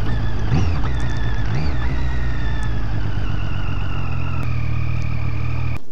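A Triumph Street Triple R motorcycle rides along a road toward Wrightwood, its engine note rising then holding a steady, loud drone close to the rider under strong wind rush.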